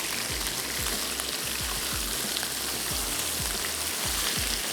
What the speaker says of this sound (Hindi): थोड़ा सा इसको 1 मिनट के लिए और फ्राई करते हैं